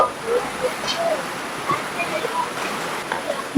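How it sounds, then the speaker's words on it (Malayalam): Heavy rain outside a small home kitchen: a steady, broad rushing hiss with no clear drops, a faint voice mixed in. "ബാക്ക്ഗ്രൗണ്ടിൽ ഒച്ചമുളിയൊക്കെ കേൾക്കുന്നുണ്ടോ നല്ല മഴയായിരുന്നു കേട്ടോ"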